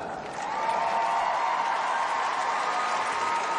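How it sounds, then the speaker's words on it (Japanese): A Canadian arena crowd applauds figure skater Mao Asada as she is introduced, a continuous roar of clapping that swells after the first half second and holds steady, with a faint tonal hum underneath. "カナダの観衆が拍手で浅田真央を迎えます"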